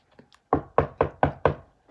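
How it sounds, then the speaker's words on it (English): Five knocks on a door, evenly spaced and close, following a couple of faint taps, crisp and clear with nothing else behind them. "Knock, knock, knock."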